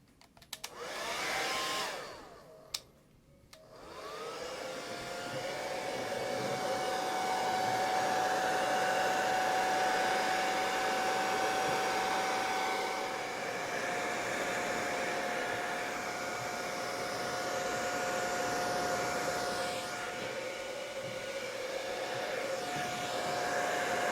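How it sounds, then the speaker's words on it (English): A hair dryer blows on G Flex epoxy spread over a fiberglass patch on a gouged Royalex canoe; after a couple of brief bursts it runs as a steady, loud, continuous whirring whine. "hit it with a hairdryer a little bit after you put it on there"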